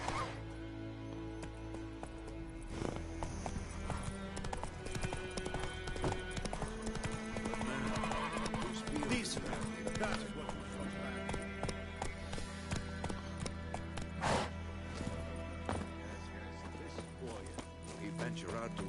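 Hooves of Roach, Geralt's horse in the video game The Witcher 3, clip-clop in a steady gallop with a brief whinny, under game music and talk.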